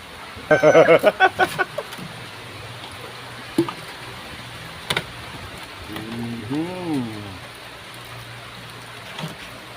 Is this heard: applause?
no